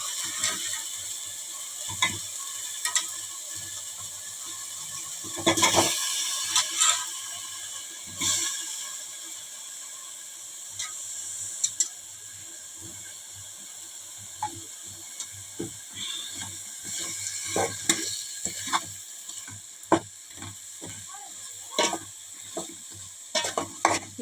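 Fish added to an onion paste curry in a pan: a soft sizzle runs beneath irregular spoon scrapes and clatters against the pan, sharp and close, coming in scattered bursts without speech.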